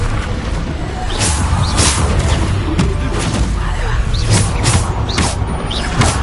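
Bombarda spell explosions in Hogwarts Legacy go off as repeated sharp blasts and crashes over dense combat noise, loud and close, with no talk.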